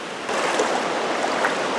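A sunlit river flows with a steady broadband rush of water that swells slightly after a quieter first moment, continuous and fairly close, with no voices.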